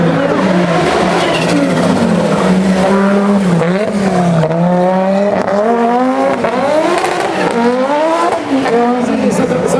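A 1985 Audi rally car driven at speed at the 2014 Neste Oil Helsinki Battle, engine loud and close, pitch rising and falling through gear changes, with an excited commentator talking over it.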